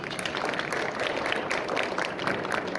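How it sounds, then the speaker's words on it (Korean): Audience applause at a technical seminar on dual-fuel technology, a steady patter of many hands clapping that sounds moderately distant and fairly quiet, with no speech over it. "동의하시는 박수 한번 부탁드립니다."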